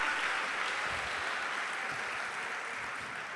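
A church congregation claps for the Lord after a sermon, a steady, dense wash of many hands that fills the room at moderate loudness and tapers slightly toward the end, with no voices standing out.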